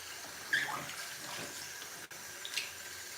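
Lukewarm water pours steadily onto fufu in a kitchen, a soft continuous splashing stream that stays fairly quiet throughout with a few small surges, and no voices.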